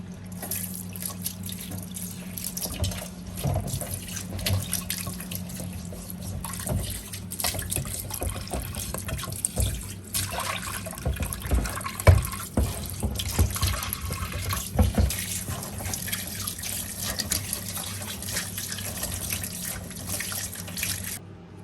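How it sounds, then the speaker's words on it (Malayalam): Tap water runs steadily over a clay cooking pot as it is rinsed after being scrubbed, with splashing and shifting water sounds nearby that continue without a break and no one talking. "നമുക്ക് നന്നായിട്ടൊന്ന് കഴുകിയെടുക്കാം"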